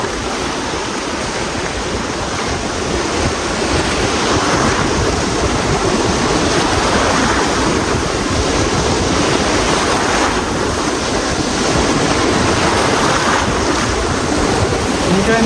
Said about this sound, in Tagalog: Ang ganda ng alon, no?